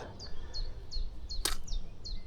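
A small bird on a hiking trail chirps in quick, repeated high notes, about six short calls in a steady rhythm, fairly close over a low outdoor rumble.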